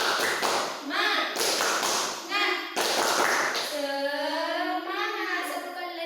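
Children in a classroom clap rhythmic spirit-clap patterns in quick unison bursts, each followed by a chanted word, with a teacher's voice leading and speaking over the group.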